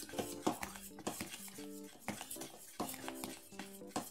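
Dhokla batter being beaten in a bowl, with quick irregular clinks and scrapes of a utensil against the dish, fairly faint and close, with no talking.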